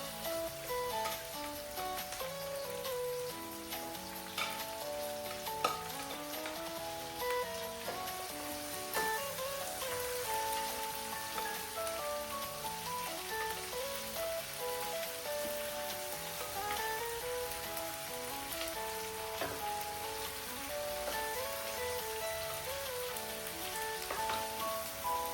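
Marinated sliced tindli being stir-fried with spices in a hot pan, giving a steady, continuous sizzle like rain on a surface, with background music playing over it throughout.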